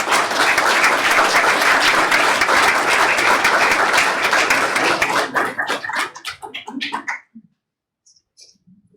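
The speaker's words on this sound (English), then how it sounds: "Once again, a nice round of applause for the gentleman." Sustained applause from an audience at a public meeting, a dense steady roar of clapping for about six seconds that thins into scattered claps and dies away to silence.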